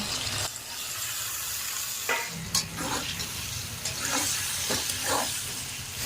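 Steady frying hiss of fried pointed gourd and green chilies, with a few scraping stirs of a spatula against a pan, close by, no voices.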